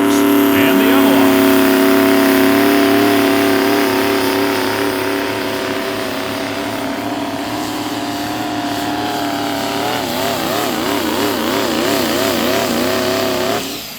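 A Duramax diesel pickup truck roars under heavy load at a pro pulling event, its engine sound steady and loud before the pitch starts wavering and bouncing near the end, with an announcer talking over it.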